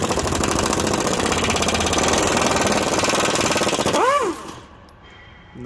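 A power tool removing a 13 mm bolt from a Powerstroke fuel pump, hammering loudly and steadily for about four seconds before stopping abruptly, with a brief whine at the end.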